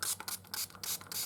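A spray bottle mists water onto paper for watercolor painting, giving about five quick hissing spritzes in a steady rhythm, close and fairly faint.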